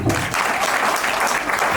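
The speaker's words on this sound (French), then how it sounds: "On applaudit pour le dire." Wedding guests applauding during an official marriage ceremony, a brief, even burst of crowd clapping that stays full and steady from start to finish.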